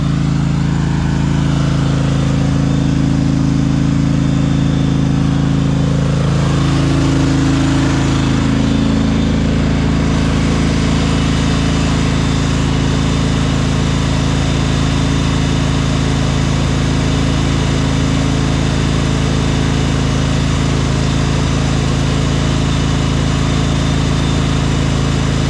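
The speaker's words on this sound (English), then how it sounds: "So now I'm going to use the lawnmower" A lawn mower engine runs continuously at close range, a loud, steady droning hum with a slight pitch shift early on.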